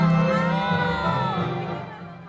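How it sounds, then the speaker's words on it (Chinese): A large New Year's Day crowd of over 13,000 people cheers and shouts at the Alishan sunrise viewing platform, a steady, dense roar of many voices that fades slightly toward the end. "我现场的观众欢呼连连，并且互相恭喜新年快乐"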